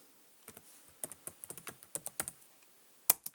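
Fingers typing on a computer keyboard during a login, quick quiet clicks in short irregular bursts with a louder final keystroke, close and clear with no talking.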